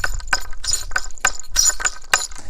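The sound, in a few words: ring striking a wooden staff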